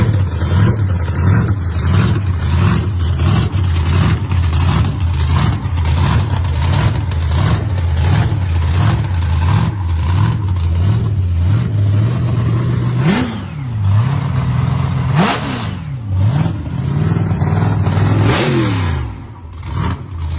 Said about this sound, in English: this 56 Chevy Gasser, known as the nostalgic drag car Blue Bayou, features an all-aluminum blown small block engine